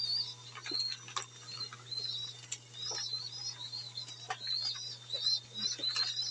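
Racing pigeons in a home loft give off a steady stream of soft chirps and coos with occasional wing flutters, continuous and close, over a constant low electrical hum.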